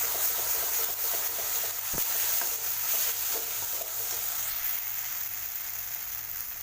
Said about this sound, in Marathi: आपण त्यामध्ये पहिले मसाला परतून घेऊ तेल सुटेपर्यंत मसाला चांगला परतून घ्यायचा